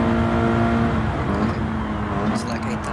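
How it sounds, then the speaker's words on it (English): A race car engine in Gran Turismo 7 on PS5 holds a loud, steady high rev near the rev limit throughout, with voices talking over it. "you rev it all the way, like drag it all the way. Like right before it hits the rev limit."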